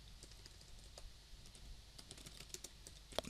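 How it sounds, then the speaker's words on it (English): Quick, light keystrokes on a computer keyboard, a soft close run of clicks with a slightly sharper tap near the end, no talking. "So here we'll just type pricing"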